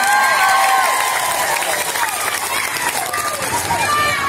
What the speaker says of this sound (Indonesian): Uyo, tepuk tangan untuk Uyo